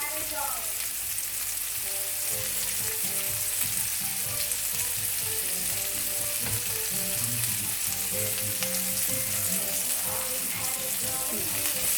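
Broccoli and other vegetables sizzle steadily in a hot pan for a crustless quiche, a loud continuous frying hiss with occasional stirring scrapes and no talk.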